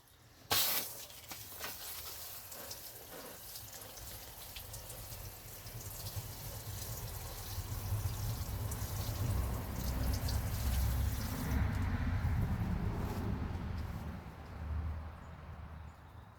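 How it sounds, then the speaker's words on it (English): A sharp click, then a long, soft hissing spray of water from a spray bottle misting freshly sown beet seeds, swelling and fading, with faint rustling near the end. "now I'm going to lightly spray it, moisten it again"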